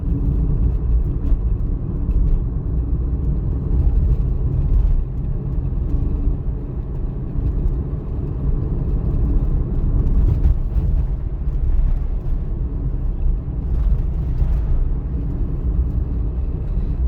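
A car on a road during a driving test rolls over uneven bumps, a steady loud low engine and tyre rumble running throughout with slight surges, no talking.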